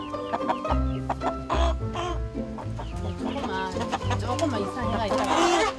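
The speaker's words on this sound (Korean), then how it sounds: "공사 중 안전을 위해 싸움닭들을 잠시 옆집으로 이사시키는데" Fighting roosters clucking and squawking nearby in a rural yard while people talk over them, bursts of agitated calls with brief pauses.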